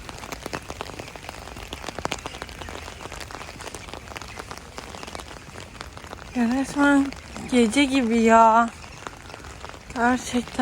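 Rain patters steadily on a surface in a dense crackle, while a person speaks over it in the second half.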